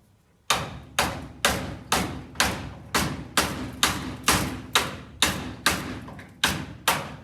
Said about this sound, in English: I'm gonna try to knock these two bolts up because they're still in there.